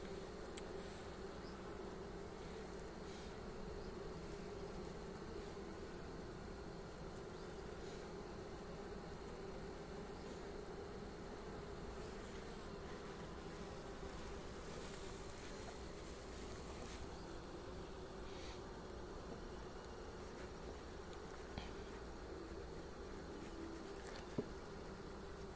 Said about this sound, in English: got a bee attacking my phone